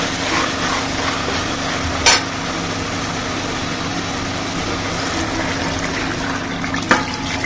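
Water pours steadily into a cooking pot for vegetable biryani, about three tumblers for one and a half tumblers of rice, with a continuous rushing splash, broken by a couple of brief metallic clinks.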